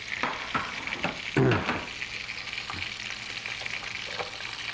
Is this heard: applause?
no